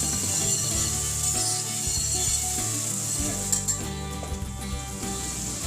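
Butter sizzles and fries steadily in a hot pan after chicken has been browned for chicken Alfredo, a constant crackling hiss with light scraping touches.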